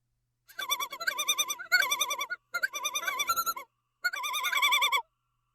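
A common loon gives its tremolo call, four bursts of rapid, quavering, laughing warbles separated by short pauses, loud and clear against near silence.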